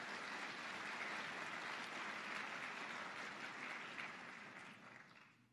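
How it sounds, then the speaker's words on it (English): Audience at a campus inclusive excellence kick-off event applauds a campus police officer, a steady rush of many clapping hands from a distance that gradually fades away over about five seconds. "let's give Officer Riley a round of applause."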